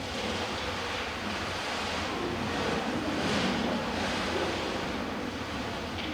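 An ocean drum, a frame drum filled with beads, rocks and pins, rolled to imitate ocean waves, gives a steady hissing wash that swells in slow surges, loud and close, with no talk.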